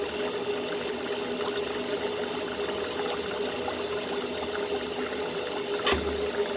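A 1955 Frigidaire Unimatic washing machine runs with a steady mechanical hum and sloshing water, constant and moderately quiet throughout.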